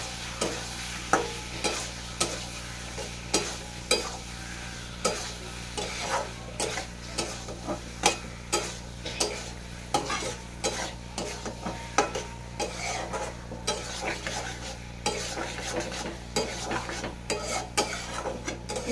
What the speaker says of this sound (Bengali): আবার এইভাবে একইভাবে কষে নেবো।